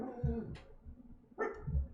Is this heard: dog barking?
yes